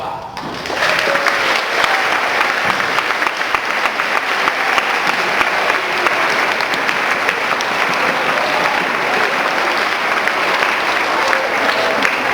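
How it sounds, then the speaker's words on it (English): An audience at a school Arbor Day ceremony applauds third graders, a sustained burst of clapping from many hands that starts abruptly and carries on evenly for the whole stretch. "I would like to ask all the third graders to stand for a round of applause."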